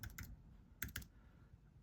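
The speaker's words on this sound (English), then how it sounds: "Let's see if I can type with one hand." A few light, quiet keystrokes tapped one-handed on a computer keyboard come in two small clusters, with soft pauses between them.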